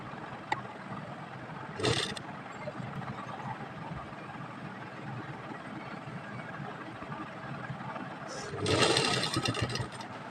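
Sewing machine stitching fabric strips for a trouser pant, heard as two short whirring bursts, one brief and one longer near the end, over a quiet background hum.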